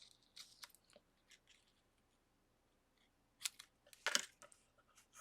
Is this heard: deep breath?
no